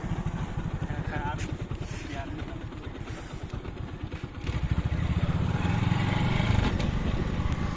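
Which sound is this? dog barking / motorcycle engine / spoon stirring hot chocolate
motorcycle engine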